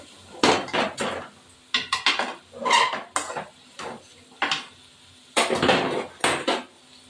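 Spoon stirring a thin ridge gourd and prawn curry in a cooking pot, a series of short scraping and clinking bursts in irregular bunches, close and moderately loud, with no talking.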